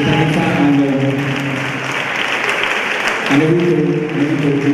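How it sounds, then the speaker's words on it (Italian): An audience applauds young music students at an Italian school music event, a steady, dense clapping that fills the whole stretch at a strong, even level. "vorrei fare un grosso applauso ancora a questi ragazzi"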